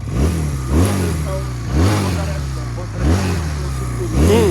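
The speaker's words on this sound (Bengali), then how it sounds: "এক্সস্টের সাউন্ডটা মানে মাথা নষ্ট সাউন্ড।" A Yamaha RX 98cc motorcycle exhaust revs in short, regular blips about once a second, each rising and falling sharply over a throaty two-stroke idle, close and loud, with a voice talking faintly.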